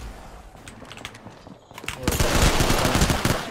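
Rapid gunfire in an Apex Legends battle royale fight, scattered shots at first, then a loud, dense burst of automatic fire with impact crackle that keeps going, close and harsh, under a player's talk.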